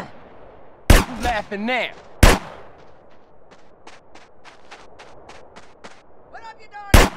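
Gunfire in GTA San Andreas during a fight with farmers: several loud, sharp shots ring out at irregular intervals, with a run of quicker, lighter shots in between and someone talking over parts of it.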